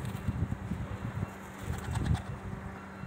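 Soft pigeon cooing and low burbling calls repeat over steady rain and wind in Elbląg, Poland, with occasional light fluttering nearby.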